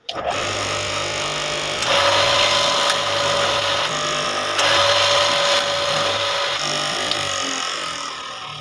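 A straight knife cloth cutting machine, model 629 with an 8-inch blade, runs steadily with a loud continuous motor whine and buzz, the pitch shifting slightly as the speed changes before it winds down at the end.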